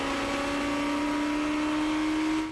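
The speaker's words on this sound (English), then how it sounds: "Listening to the sound of the engine." A continuous high-pitched engine whine from a GP2 racing car at the 2006 British round holds a steady tone throughout, heard at a distance, fading slightly at the end.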